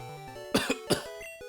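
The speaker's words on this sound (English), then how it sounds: "Don't cough on me" A couple of short, rough coughs, fairly close, heard over a quiet background of soft tones.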